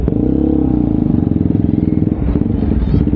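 Yamaha MT-09 motorcycle engine heard on a ride, a loud, close, throbbing low rumble with a fast pulsing beat that shifts slightly in pitch near the end.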